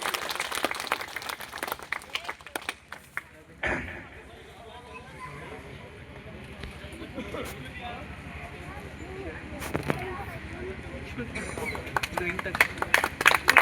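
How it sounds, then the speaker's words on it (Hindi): An audience claps to welcome guests at a Bhagwat Katha gathering, with scattered applause and a loud voice over a PA, giving way to babble and hall noise, then renewed clapping near the end. "आप सभी लोग तालियों से स्वागत करिए"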